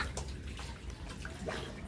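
Water pours steadily into a filling washtub, nearly overflowing, a continuous rushing splash with faint voices in the background.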